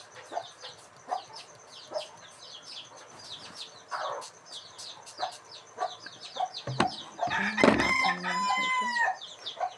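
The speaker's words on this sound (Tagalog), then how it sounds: "Hindi natigil ang mga manok." Hungry backyard chickens cluck steadily in short repeated calls around feeding time, and near the end a rooster crows loudly and close over the flock.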